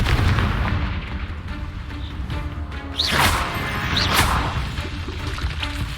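A Confringo fire spell cast in Hogwarts Legacy, two sharp whooshing blasts about a second apart over a steady rumbling battle backdrop.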